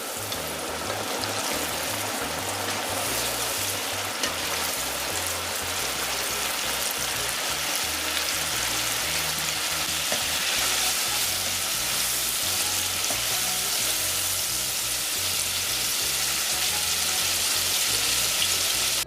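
Shrimp frying in hot oil give off a loud, continuous crackling sizzle, close and steady throughout, like a constant wash of rain, with no voices.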